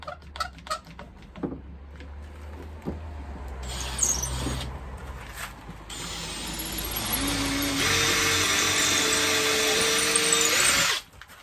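A power drill whirs up and runs steadily, its motor pitch rising under load, preceded by a few clacks and handling knocks, then stops abruptly.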